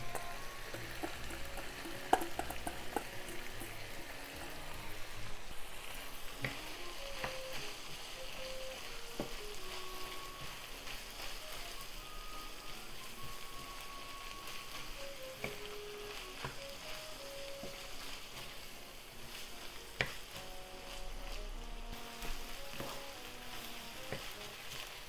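Browned ground meat and onion fry in a pan for a Japanese potato croquette filling, giving a continuous soft sizzle with occasional stirring scrapes and clinks, quiet and steady with no talking.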